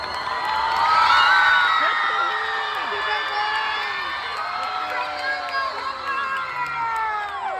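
A large comic con audience cheers, whoops and shouts loudly and steadily, rising near the start and carrying on at a strong level, with no clearly separate hand claps standing out.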